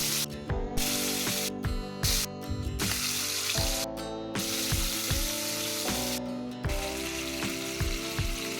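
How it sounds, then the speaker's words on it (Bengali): Bata fish hit hot mustard oil in a pan, giving a bright, continuous sizzle and spray broken by sharp crackles and pops, with no voices. "এবার আমি মাছগুলো তেলের মধ্যে ছেড়ে দিয়েছি"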